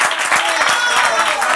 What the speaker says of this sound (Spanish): Un aplauso para Francis.